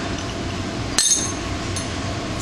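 A wrench slips off a bolt on a sprocket with a single sharp metallic clink about midway, followed by a fainter tick, over a steady low background hum.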